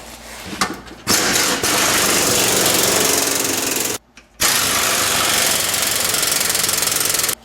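Loud, rapid hammering bursts of an impact wrench loosening corroded fasteners on a 1999 Ford Taurus during fuel pump replacement, running in long sustained pulls separated by a short pause, close and harsh.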